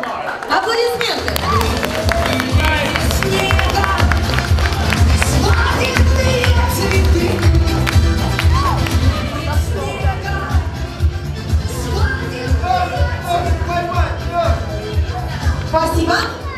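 A crowd gives a long, dense round of applause mixed with cheering and chatter, holding loud and steady throughout.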